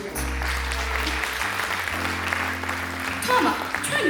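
An audience at a year-end studio concert applauds with continuous clapping. A low hum sits underneath, and a voice can be heard over the crowd.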